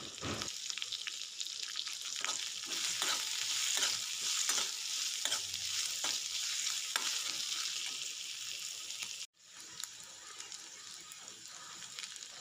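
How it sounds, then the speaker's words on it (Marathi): Chopped onion sizzles in hot tempering oil with crushed chili-garlic paste while being stirred, a steady close hiss broken by scraping strokes, briefly cutting out near the end before resuming, with no talk. "कांदा छान हलवून घ्यायचा।"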